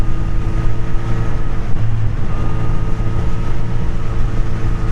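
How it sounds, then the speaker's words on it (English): A smooth four-cylinder motorcycle engine hums steadily at cruising speed, mixed with rushing wind noise and no voices. "It's so smooth with its 4-cylinder engine."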